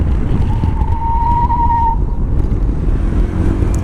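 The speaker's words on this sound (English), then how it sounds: "the bike is like, I don't know, screeching while it's sliding around" A Honda PCX 125 scooter emits a thin, steady screech for about a second while sliding around, over a loud rumbling engine and wind noise up close.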